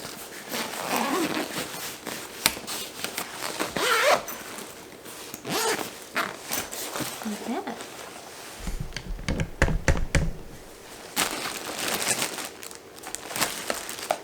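A zipper on a travel bag is pulled open and closed several times in quick rasping strokes, close by, with light handling and tapping noises between.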